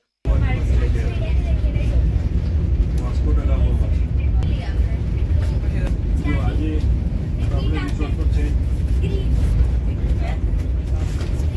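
Steady rumble of a passenger train carriage rolling along toward Goa, a continuous low drone with faint rattles throughout, voices talking over it.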